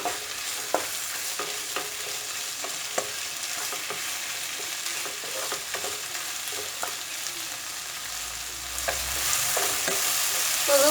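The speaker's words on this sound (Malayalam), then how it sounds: "ഇനി ഇത് നന്നായിട്ടൊന്ന് വഴറ്റുക ആ പച്ചമുളക് ഒന്ന് മാറണം" Tomatoes and green chillies sautéing in a pan for dum aloo: a steady sizzle runs throughout, with repeated spoon scrapes and taps as the mixture is stirred, and the frying grows a little louder near the end.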